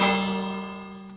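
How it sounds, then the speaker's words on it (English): A bell rings once in the Minecraft video game, a bright tonal strike with a steady hum that fades smoothly over about a second, alone without talk. "And these bells work. That's so awesome."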